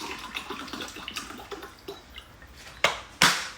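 Cold water poured in a home kitchen during Vietnamese cooking with a Thermomix, a soft running trickle with light drips followed by two louder splashing bursts near the end, close by and with no one talking.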